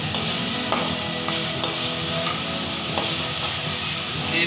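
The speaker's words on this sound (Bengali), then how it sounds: "কাঁচা পেঁয়াজের গন্ধটা যতক্ষণ না যায় ততক্ষণ তো ভাজছে" Onions and spices fry in a pan at home, a continuous close sizzle with occasional scrapes and clicks of stirring, and no voices over it.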